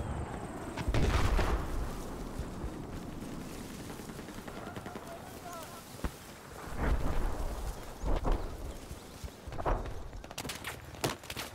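Scattered gunfire in the video game Battlefield 4: a handful of separate shots and booms spaced across the stretch, moderately loud against a busy battlefield background, with a player talking at times.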